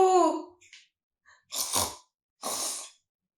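A storyteller's voice imitates a grandmother snoring in a children's tale: a short voiced sound, then two separate breathy, rasping snore bursts, close and fairly quiet, with pauses between them.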